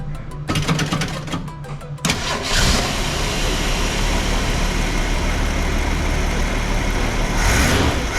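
A 1965 Ford Mustang, stored for decades and fitted with a replacement carburetor, cranks briefly and fires up, then settles into a loud, steady, rough idle close by.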